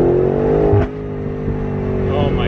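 A 2020 BMW M8 Competition's twin-turbo V8 pulls hard under acceleration, a loud smooth rising engine drone heard from inside the cabin, with a brief gear-change dip near the start.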